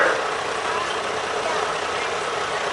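A 1986 International truck idles steadily in an antique truck show parade, a broad continuous engine rumble mixed with outdoor noise and faint voices.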